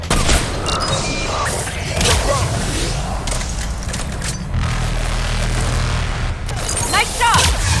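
Sustained bursts of gunfire from a Mass Effect 3 firefight fill the scene, loud and continuous, with heavy booms mixed in and game voices calling out over the shooting.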